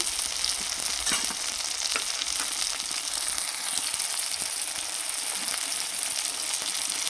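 A masala of two tomatoes with salt, turmeric, cumin and chilli powder sautés in a pan, giving a constant loud sizzle with light stirring scrapes and no talk.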